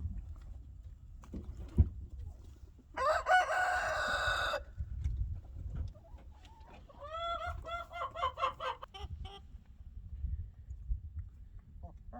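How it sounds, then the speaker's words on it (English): Chickens cluck and a rooster crows loudly in bursts over a low, steady outdoor rumble, with scattered softer bird calls between. "chickens, on the other hand, are always excited."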